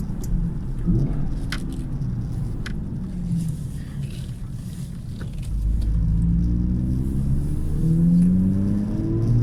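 A car fitted with a lightened flywheel pulls away uphill from low revs, its engine note rising in a steady climbing rumble that grows louder toward the end, with a few faint clicks early on.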